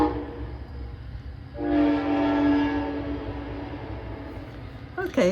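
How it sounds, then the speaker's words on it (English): A passing train gives one long, loud, steady horn blast over a low rolling rumble, with people talking nearby. "Okay, train's gone."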